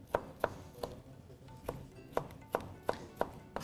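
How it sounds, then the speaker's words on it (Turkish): A knife dices kiwi into small cubes on a cutting board in a kitchen, close, crisp chopping thuds in an uneven rhythm, about ten strokes over a quiet room background. "Kuşbaşı şeklinde doğrayalım."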